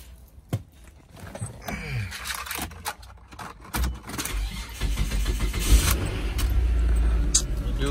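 A 3.5-liter Hyundai Santa Fe at an insurance auto auction cranks and starts, the engine catching and settling into a steady idle, with clicks and handling noises in the cabin beforehand.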